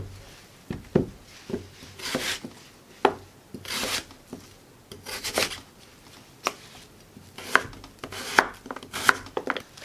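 Knife slicing radish into flat, thin pieces on a cutting board for Korean water kimchi, with irregular sharp chops and scraping strokes close by, no talk.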